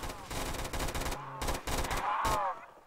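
Gunfire from a zombies video game comes in rapid, loud bursts separated by short pauses, with a faint voice sounding briefly among the shots.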